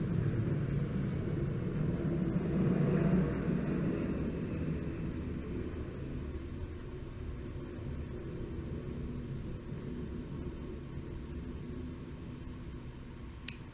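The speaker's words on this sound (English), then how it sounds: "There's a plane going over my house." A steady, broad rumble of an airplane passing overhead, swelling briefly then fading into a constant wash of noise, with no voices.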